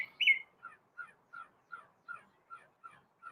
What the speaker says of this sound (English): Got a crow.